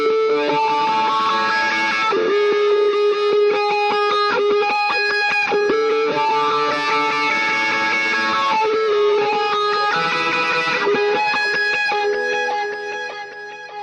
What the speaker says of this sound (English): in the instrumental I'm playing a pretty heavy overdriven sound with a wah part